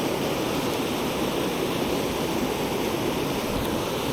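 Fast, choppy, riffly water of the Little River in the Great Smoky Mountains rushes in a dense, constant roar, close and loud with no pauses or voices.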